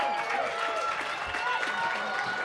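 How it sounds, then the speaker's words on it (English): Crowd applause and cheering at a women's college soccer match between North Carolina and Cal after a corner kick, a steady broad wash of clapping and voices from the stands heard over the playing field. "Crowd shows their appreciation for the work of Lima."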